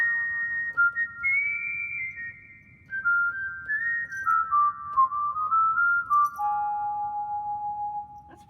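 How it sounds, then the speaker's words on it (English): Whistle voice on a Technics KN-1200 keyboard plays a clean, pure melody of sustained notes stepping gradually downward, with slight slides between pitches, steady and clear over faint background hum. "Whistle."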